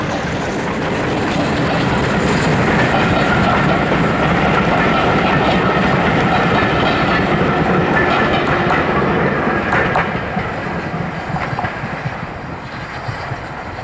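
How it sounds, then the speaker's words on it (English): Steam locomotive 78019 runs non-stop through a heritage railway station on the Great Central Railway with a Pullman dining train, a loud sustained roar with rhythmic clickety-clack of carriages that eases slightly toward the end. "78019 passes non-stop through the station, heading back to Loughborough, with the 2:10 p.m. Charnwood Forester Pullman dining service from Leicester North"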